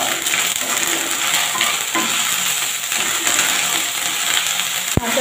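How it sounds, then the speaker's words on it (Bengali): Green chilli and ginger paste frying in a pan for cauliflower roast, a strong steady sizzle with spatula stirring and one sharp metallic knock near the end. "কাঁচা লঙ্কা আদা ভাজা হয়ে গেছে"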